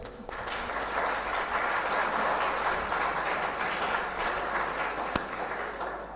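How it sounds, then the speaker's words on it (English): Audience applause for quiz and sketch competition winners at a language festival held at IIIT Manipur, a full, sustained round of clapping that starts abruptly, holds steady and loud, then tapers slightly near the end. "a big round of applause to the winners"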